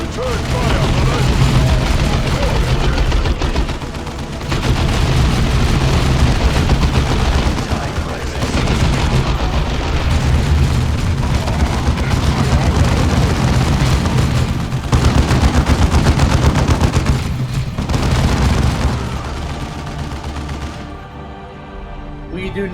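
Sustained, dense gunfire from a Warhammer 40k: Dawn of War 2 battle against orcs, loud rattling bursts and booms layered continuously with no let-up, mixed with game sound and brief voices.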